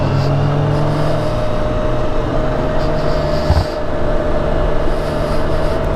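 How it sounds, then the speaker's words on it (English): A BMW K1600B motorcycle at speed with its drive shaft rattling, heard as a steady loud engine and road drone with a constant mechanical buzz, close and continuous with no talk. "It was nowhere near that loud with its original equipment drive shaft."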